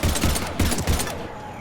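Rapid bursts of gunfire from the shooter game Mass Effect 3 on Xbox Series X, several dense volleys in quick succession at close range, with no talk over them.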